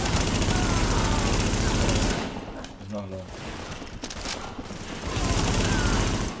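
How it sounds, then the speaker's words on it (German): Gunfire in The Division during a co-op firefight, with bullets ricocheting off a railing: dense, loud bursts of shots open and close the stretch, while a quieter middle section carries scattered impacts and clanks. "Diese Abprallgeräusche, wenn die gegen das Geländer oder so ballern, hört sich voll geil an."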